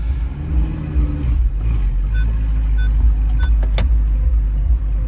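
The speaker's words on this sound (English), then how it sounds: "It's got quite a muscular, throaty sound to it" A first-generation Audi R8 V8 with a manual gearbox idles with a deep, steady, throaty rumble close by, joined by a few faint electronic parking-sensor beeps partway through.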